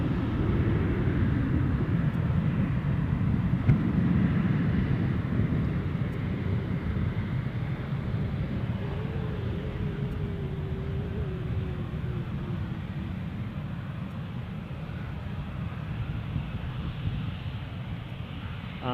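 A SunExpress airliner departs Edinburgh Airport, its jet engines a steady, heavy low rumble that holds loud and broad throughout, easing only slightly over the span with no voices.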